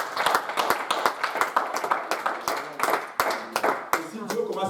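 A church congregation claps in worship, a brisk, loud run of rhythmic claps that fills the room, with voices mixed in beneath.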